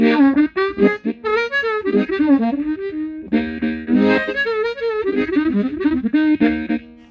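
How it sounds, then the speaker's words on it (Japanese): A ten-hole blues harp harmonica plays a bluesy phrase up close, with bent, wavering notes and short breathy chords in a loose rhythm. "10個穴が開いているハーモニカですね。"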